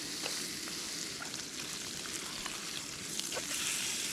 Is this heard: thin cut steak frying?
yes